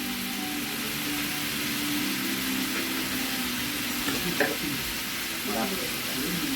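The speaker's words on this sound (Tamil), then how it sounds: "கருவேப்பிலை போட்டு இந்த காய் வதக்கிறது கொஞ்சம் நெய் ஊற்றிக்கலாம்." Vegetables sautéing in ghee with curry leaves for a large communal free-meal cooking, a steady close sizzle and crackle filling the background with a few louder scrapes of stirring near the end.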